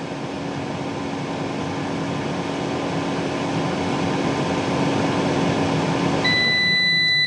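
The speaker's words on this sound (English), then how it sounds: "I can't stop that beeping, so I do apologize for that." A Kalorik 8-quart touchscreen air fryer hums steadily during its cooldown, then near the end starts emitting a sustained high electronic beep that continues to the close.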